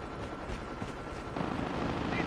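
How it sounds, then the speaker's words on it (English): A stealth chopper rumbles overhead in Call of Duty Mobile, a steady droning whir that swells slightly louder partway through amid game ambience. "Friendly stealth chopper inbound."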